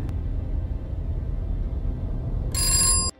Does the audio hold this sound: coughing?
no